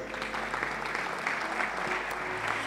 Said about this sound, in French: On peut acclamer encore.